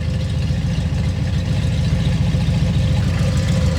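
A car engine fitted with EFI runs hard on a dyno, a loud, dense, steady low roar that holds without a break for the whole stretch.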